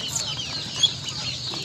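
Khaki Campbell ducklings at a farm peep and chirp continuously in a soft, high-pitched chorus, fairly close but faint, with no talking.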